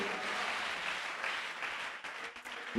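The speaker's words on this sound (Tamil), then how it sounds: "கையை தட்டி வர அல்லேலூயா சொல்லுங்க பார்க்கலாம்" Dense, steady applause from many hands, a church congregation clapping together continuously with no voices rising above it.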